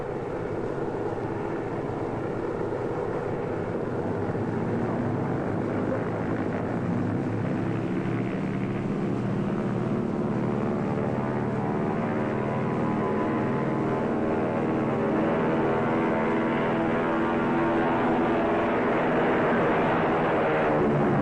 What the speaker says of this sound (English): Tower to Flight 34, you may take off on runway C.